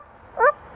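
A parrot mimics a dog's bark with one brief, close, clear yelp-like call that stands alone.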